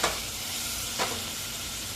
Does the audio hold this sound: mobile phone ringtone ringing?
no